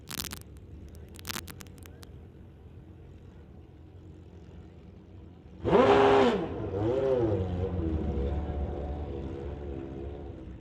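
A 2017 Suzuki GSXR and a Harley Davidson at a drag strip bike race. After quiet ambient noise, a loud engine blast bursts in and rises, then settles into a steady, revving roar.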